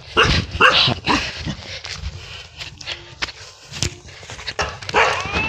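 A dog barks repeatedly at a stranger arriving at a rural village home in Cambodia, with sharp, close barks and a few yips in an uneven rhythm over outdoor background noise.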